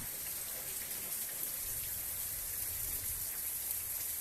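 Rain falls during a thunderstorm with lightning nearby, a steady, fairly faint hiss of drops that fills the scene continuously with no talk.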